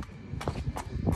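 A gray rope horse walks nearby with a few distinct hoof clip-clops at an unhurried, slightly uneven pace, over a low background.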